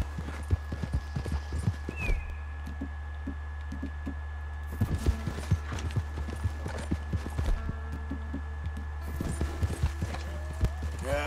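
Horse hooves clip-clopping at a steady riding rhythm in Red Dead Redemption 2, up close over a constant low game hum, with brief bursts of other game noise.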